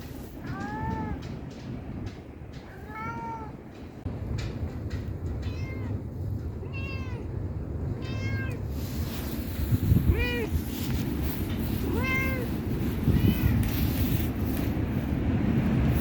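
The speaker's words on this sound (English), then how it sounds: "Spoiled house cat." A spoiled house cat meows repeatedly, about eight or nine clear calls spaced through the stretch, close by over a steady low rumble of outdoor background noise at newly moved-onto rural land.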